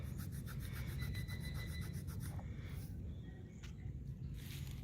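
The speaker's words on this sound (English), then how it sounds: "Let me rub this on my pants." Steady, close rubbing and rasping of an old ring being rubbed on fabric pants to clean it, continuous and quiet with soft scratchy texture throughout.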